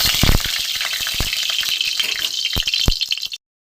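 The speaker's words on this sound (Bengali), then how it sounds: "এবার আমি একটু নেড়ে দেবো।" Food is stirred in hot oil in a karai while making pointed gourd kofta. A close sizzle is broken by sharp utensil clicks and scrapes, then stops abruptly.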